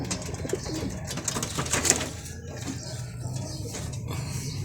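Pigeons at a feeder make soft, low cooing, with a brief flutter and scuffling mixed in, heard close up and fairly quiet throughout.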